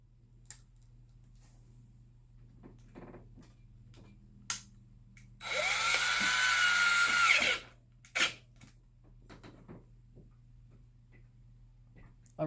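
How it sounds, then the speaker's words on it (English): A cordless drill whirs for about two seconds driving a screw into a DIY handlebar mount, loud and close, framed by scattered clicks and handling knocks in a quiet room. "Grab my drill"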